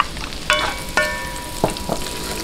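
Garlic and onion sautéing in a pan for seafood paella, a close steady sizzle broken by a few sharp clinks of a utensil against the pan.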